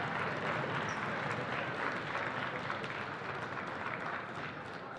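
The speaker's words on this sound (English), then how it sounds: "You can hear the cheers, you can hear the claps" A crowd at a girls' high school basketball game between New Canaan and Brien McMahon applauds and cheers for the class of 2023 seniors. The noise is dense and steady, with sustained clapping and cheering that fades slightly toward the end.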